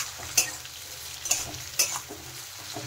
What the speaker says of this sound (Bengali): নারকেলগুলো কিন্তু কুচি করে নিয়েছি, সেইগুলো আমি আলুর সাথে ভেজে নিচ্ছি